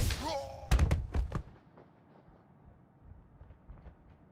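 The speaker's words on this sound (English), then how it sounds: "Hope no one heard the explosion." A real smasher of an explosion goes off in the adventure game Lost Horizon, two or three heavy booming bursts in quick succession followed by a fading rumbling tail, with a voice heard briefly just before.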